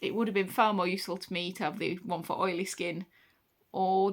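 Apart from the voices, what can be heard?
No everyday noises stand out.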